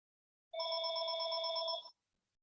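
A telephone gives one steady electronic ring lasting about a second and a half, clear and fairly close, with no talking over it, during a live online wine tasting.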